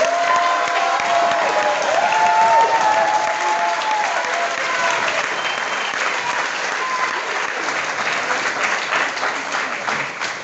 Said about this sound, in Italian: E adesso vi chiedo un applauso per la nostra costumista Anna Maria Ferlucci